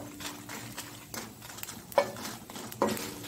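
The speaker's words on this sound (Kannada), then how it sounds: "ಸಣ್ಣ ಉರಿಯಲ್ಲಿ ನಾವು ಇದನ್ನು ಫ್ರೈ ಮಾಡಿಕೊಳ್ಳೋಣ." Bolenjeer (silver fish) masala frying in a pan on a very low flame, a soft steady sizzle broken by a few scraping stirs, close and fairly quiet with no talk.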